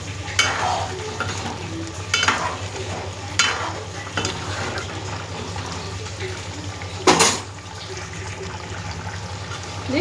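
Spices with coriander and cumin powder sizzle gently in a pan of mutton curry, a low steady fry broken by a few sharp bursts of stirring and scraping.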